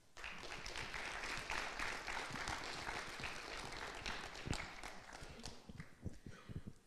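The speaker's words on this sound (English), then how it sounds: "Please give a huge round of applause" A TEDx Youth audience claps in a dense, steady patter that carries on for several seconds, heard from within a room at moderate loudness.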